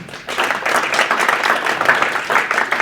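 An audience applauds at a Tech Alley Henderson talk, many hands clapping together in a loud, continuous burst that stays even across the whole stretch, with no voices over it.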